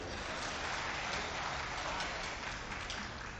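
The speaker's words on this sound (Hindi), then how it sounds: "हमारे लिए तो शराफत में ताली बजाई दीजिए" Audience applause at a Hindi comic poetry gathering in Lucknow, a steady wash of clapping held at an even, fairly distant level for the whole stretch.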